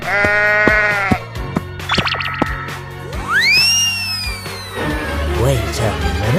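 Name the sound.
sheep bleating in a 3D animal video game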